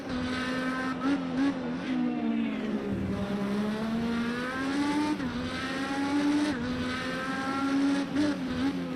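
IndyCar race cars in a racing game scream past in a steady, high-revving engine whine, pitch rising and falling with gear changes and passes, loud and continuous with no talk.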